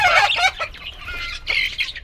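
Young chicken chicks give a quick run of high, close peeps and cheeps, a few bursts clustered over two seconds with brief gaps between.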